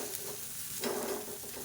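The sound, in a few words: stirring rice puttu with fried onions in a pan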